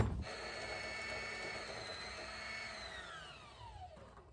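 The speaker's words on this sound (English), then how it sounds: "I'm just gonna go ahead and fill these up before I thread the machine" A sewing machine winds thread onto empty bobbins, giving a steady mechanical motor whine that holds for a few seconds and then slides down in pitch as it slows to a stop.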